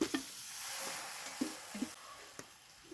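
Sautéed masala with spice powders is stirred in a pan, and a soft continuous sizzle sits under several distinct knocks and scrapes of the spoon against the pan.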